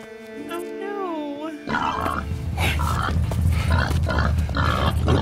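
A pig in the Red Dead Redemption 2 video game grunts and squeals loudly in quick bursts over busy game sound.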